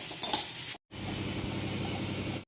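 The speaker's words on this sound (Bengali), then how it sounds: "তেলটা গরম হয়ে গেছে, এবার পেঁয়াজটা দিয়ে দেবো।" Onions dropped into hot oil for a Bengali posto dish, a loud close sizzle that cuts out briefly and then resumes as a steady frying hiss with stirring, no voices.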